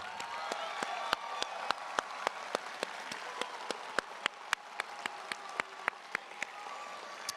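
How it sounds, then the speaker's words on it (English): A graduation audience applauds steadily, with sharp individual claps standing out over a continuous wash of clapping. "Let's give all the parents and extended family members a round of applause."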